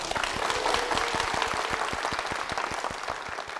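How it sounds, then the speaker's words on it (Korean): Steady applause from a church audience, many hands clapping at a brisk even rate, sustained for a few seconds without talking. "박수로 모시겠습니다"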